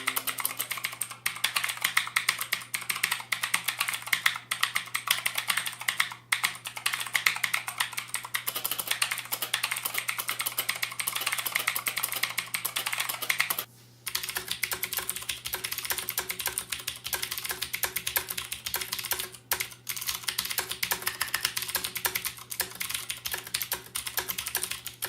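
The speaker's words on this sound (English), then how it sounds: "Here's a sound test so you can compare what the different sound would look like from a Cherry MX Blue switch and the Aotumu Blue switch." Continuous fast typing on a mechanical keyboard with Cherry MX Blue and Aotumu Blue clicky switches, crisp close keystrokes over a low steady hum with one brief pause midway.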